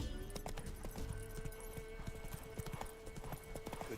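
Hooves of Roach, the horse in The Witcher 3, clip-clop in a quick, steady rhythm over a faint background hum, fairly quiet and continuous throughout.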